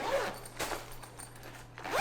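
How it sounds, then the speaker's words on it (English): The zipper of a tripod carrying case is pulled open in a few quick, close rasping strokes, with short pauses between pulls in a quiet room. "Unzip this."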